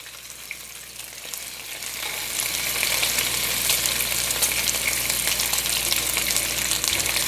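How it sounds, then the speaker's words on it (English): Redear fish fillets fry in hot bacon grease in a pan, a close, steady crackling sizzle that grows louder after a couple of seconds and continues without talk. "You can't smell it, but can you hear that sizzle?"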